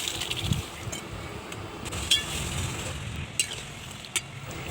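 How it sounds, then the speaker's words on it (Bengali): Boiled, mashed dal pours into a hot pan with cumin and sizzles softly at a low, steady level, with occasional sharp clinks and scrapes of stirring. "কড়াইয়ে ঢেলে দেব।"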